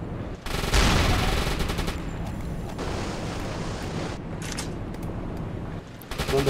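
Bursts of gunfire in the submarine game UBOAT, with rapid machine-gun rattles and heavier booming shots, loud and continuous with brief gaps before a final burst.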